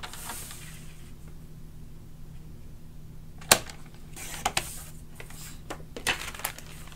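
Paper being cut to size for a handmade paper wallet: a few sharp snips and crisp slicing strokes scattered over a quiet background, with soft rustles of the sheet between them.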